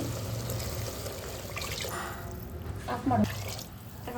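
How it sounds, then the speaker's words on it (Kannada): Water is poured onto fried ingredients in a chicken biryani pot with a close splashing trickle that swells briefly, against quiet kitchen background noise. "ಫ್ರೈ ಆದಮೇಲೆ ನಾನು ನೀರು ಆ್ಯಡ್ ಮಾಡ್ತಿದ್ದೀನಿ"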